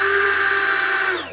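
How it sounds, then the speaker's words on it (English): A small new power screwdriver whirring steadily in a Winnebago Solis 59P camper van, one close, loud, high whine that holds for about a second and then winds down. "I'm using my nice little new screwdriver, which is cool, a lot smaller than the other one"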